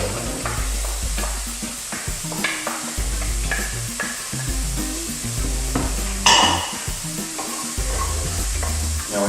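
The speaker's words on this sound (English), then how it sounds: "Now when stirring these, you don't want to stir too much." Chicken pieces sizzle and fry in oil in a pan, with steady crackling and repeated scraping stir strokes of a utensil against the pan, close and alone, with no talk.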